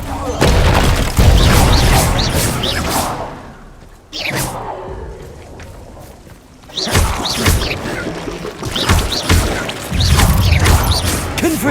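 Confringo blasting spells burst repeatedly in Hogwarts Legacy, loud booming blasts and crashes arriving in heavy clusters with a brief lull in the middle, layered over dense game sound effects.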